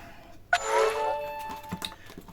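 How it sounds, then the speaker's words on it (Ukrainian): A phone plugged in to charge gives a single bright chime that rings and fades over about a second, followed by a few light clicks and handling noises nearby, with no talk. "телефон на зарядку увімкнувся"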